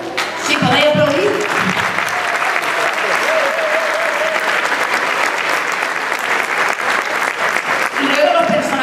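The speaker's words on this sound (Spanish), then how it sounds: "si podéis aplaudir" Audience applauding after a zarzuela performance, loud sustained clapping from a large crowd, with brief voices and musical tones at the start and end.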